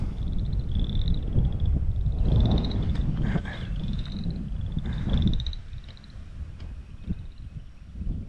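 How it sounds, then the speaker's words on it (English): Repeated high chirping calls of frogs or other small creatures pulse through the whole stretch over a dense, noisy outdoor background, with no talking. "I can hear tons of frogs."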